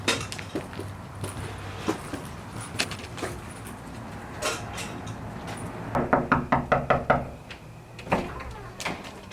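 Knocking on a house door while trick-or-treating on Halloween: scattered thumps and handling noises, then a quick series of about six sharp raps, followed by a few more knocks, close and fairly loud.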